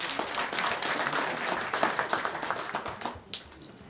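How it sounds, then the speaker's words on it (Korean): An audience at a literary award and volunteer service ceremony applauds in a sustained wash of clapping that fades slightly toward the end, moderately distant, with a faint voice underneath. "큰 박수 한번 부탁드립니다"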